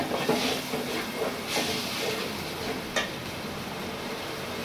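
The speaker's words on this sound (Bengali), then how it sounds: "এখন এটা ভালোভাবে আমি নেড়ে চেড়ে একটু কষিয়ে নিব, যেন রসুনের গন্ধটা চলে যায়" Garlic stirred and frying in a hot pan gives a steady close sizzle and hiss, with a few soft scraping strokes of the spoon rising above it now and then.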